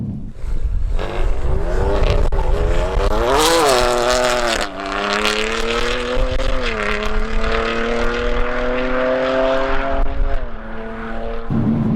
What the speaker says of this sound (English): With the addition of the Venturi intake and the charge pipes, you do get a lot more turbo spool coming through, which is fun.